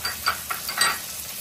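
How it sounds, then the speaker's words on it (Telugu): Curry leaves hit hot oil for an instant tomato pickle, giving a few quick sharp sizzling hisses and spits in short bursts over a second and a half, close and moderately loud. "ఇప్పుడు కరివేపాకు కూడా వేసుకుందామండి."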